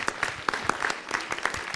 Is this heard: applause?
yes